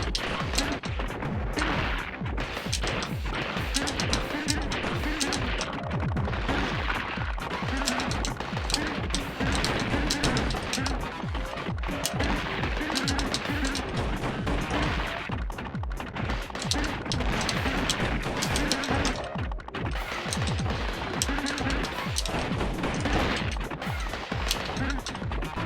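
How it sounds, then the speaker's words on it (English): Rapid gunfire and missile blasts in a Gato Roboto boss fight, with lava and fireballs around, form a dense, loud, continuous barrage of retro game shots and explosions, with a voice speaking over it. "a little fireball blocks my shots too, hitting my missiles."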